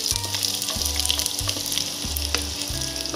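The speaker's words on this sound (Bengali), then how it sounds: "এতিয়া পিঁয়াজখিনি অলপ ভাজি লওঁ ধুনীয়াকৈ ৰঙচুৱা হোৱাকৈ।" Onions fry in hot oil with a steady close sizzle, broken by regular stirring scrapes about every half second, heard alone with no voices.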